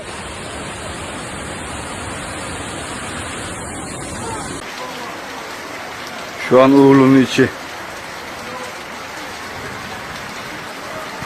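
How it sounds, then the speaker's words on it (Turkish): Floodwater from an overflowing stream rushes through neighbourhood streets with a steady loud roaring wash throughout, and someone speaks briefly over it partway through. "Bildiğin dere yine sel. Mahalle araları hep su."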